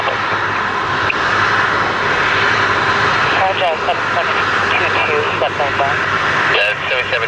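The jet engines of a Lufthansa Airbus A330 roar loudly and steadily as the heavy airliner departs. Radio voices talk over the engine noise.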